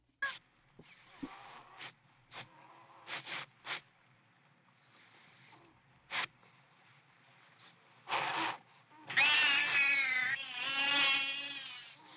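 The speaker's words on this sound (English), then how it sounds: "And let's just let us just watch Jackie Chan watch a cat and a snake fight." A cat fighting a cobra plays on a screen: sharp hisses and spits come in short bursts, then drawn-out yowling meows near the end, heard at moderate volume.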